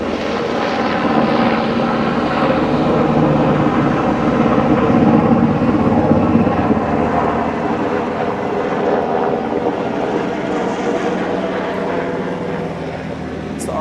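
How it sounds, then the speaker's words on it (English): A Black Hawk helicopter flying near an airport, a loud continuous whirring engine and rotor roar that swells and fades slightly over the whole stretch. "Helicopter noise, we're on an airport"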